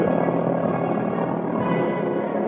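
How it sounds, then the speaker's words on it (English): A Soviet Mil helicopter rotor drones loud and continuous, a dense steady thrum with whining engine tones held across the whole stretch. "These are Soviet helicopters designed by engineer Mill."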